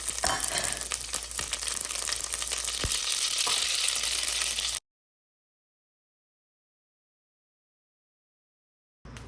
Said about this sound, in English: Let the onions and tomatoes saute and reduce a little bit